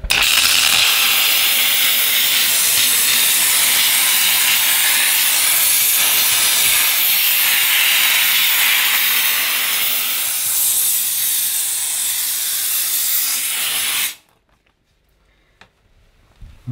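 A Dupray Neat steam cleaner blasts a loud, steady hiss of steam without a break for about fourteen seconds, then cuts off abruptly into near silence.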